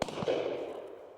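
A shotgun fired at a woodcock during a driven shoot in Northumberland, a single sharp report with a short decaying tail, heard in the open without voices.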